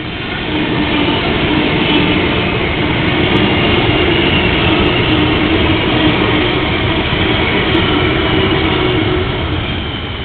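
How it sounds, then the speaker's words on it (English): A train rumbles past close by, a steady loud roar with rail noise and a low hum that holds for the whole stretch. "Here's the train."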